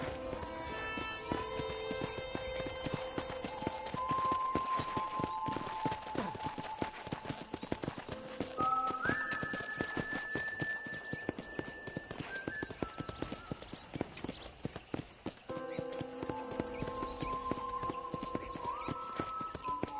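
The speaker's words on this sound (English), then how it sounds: "I picked out a fine horse for you." Horse hooves clip-clop steadily while riding in the Red Dead Redemption video game, with a whinny and background music tones layered over the continuous, moderately loud hoofbeats.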